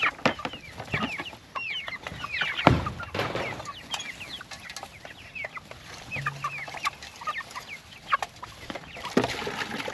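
A flock of chickens in a movable chicken tractor clucks and squawks continuously, with busy overlapping calls at close range and no talking.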